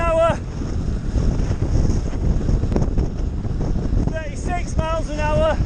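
Wind rushing loudly past a cyclist riding fast in the dark at high speed, a continuous dense roar that buffets the microphone, with brief chirping tones and a voice speaking over it.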